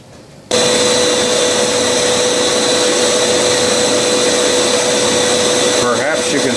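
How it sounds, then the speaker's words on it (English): A grinder runs at high speed truing the jaws of a 3-jaw lathe chuck turning at about 400 RPM in a machine shop, a loud steady whine with a sustained tone that starts suddenly and holds throughout. "Perhaps you can see a little of the sparking here as I'm striking one jaw"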